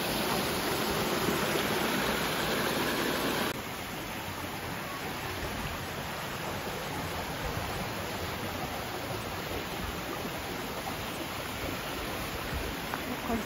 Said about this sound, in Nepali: कस्तो राम्रो खोल्सा बगिरहेछ यहाँ